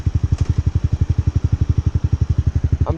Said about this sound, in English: I'm trying to learn how to rev match correctly.